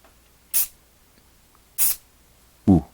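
Airbrush spray paint on a 2016 Kyle Larson #24 DC Solar Eldora NASCAR model car: two short hissing bursts about a second apart, then a lower, fuller blast, each close and clear over a quiet background.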